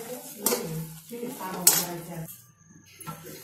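A thick jaggery and peanut chikki mixture stirred in a pan, heard as intermittent metallic scrapes and clinks of a spoon against the pan, with quiet gaps between strokes and no voices.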